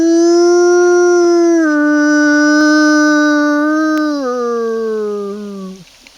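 A human voice imitates a wolf howling close by in darkness: one long, loud, sustained howl that dips slightly in pitch, holds steady, then drops and trails off at the end.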